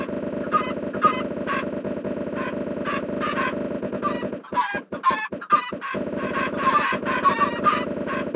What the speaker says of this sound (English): they're just making baby chickens